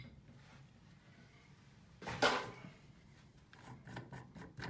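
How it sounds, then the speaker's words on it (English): A spanner works on a water tap with the tap head off during a washer repair, giving a single loud metallic scrape and rasp midway, followed by a few softer clicking scrapes, with no talking. "With the tap off, just going to use a spanner."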